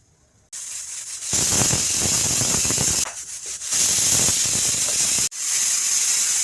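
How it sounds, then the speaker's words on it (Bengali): A pressure cooker boiling soaked mung beans lets out loud, close, continuous steam hissing in long bursts, broken by a couple of brief pauses. "মুগ কলাইটা আমি দুটা সিটি দিয়ে নামিয়ে নেব"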